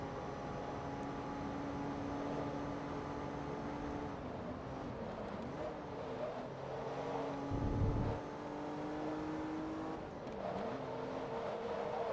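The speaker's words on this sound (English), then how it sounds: "this game has sound effects that clicks whenever you shift in every car" A car engine races in Forza Motorsport 2, Class C World Trophy event, with steady sustained engine drone whose pitch drops and climbs at gear changes around the middle and later; shift clicks are not distinctly separable.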